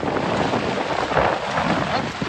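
Strong wind gusting outdoors during heavy rain, a loud continuous roaring rush of broadband noise buffeting the microphone, steady throughout with no speech.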